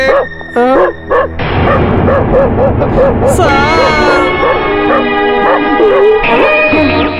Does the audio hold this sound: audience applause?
no